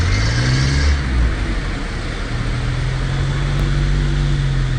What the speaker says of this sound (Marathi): एवढं ट्रॅफिक लागलं आहे.